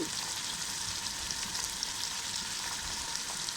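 Chicken pieces sauté in a pan with a faint, even frying hiss that runs steadily throughout, with hardly any stirring.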